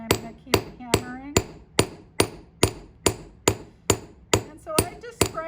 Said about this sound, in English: I'm going to flip it over, and I'm going to keep hammering.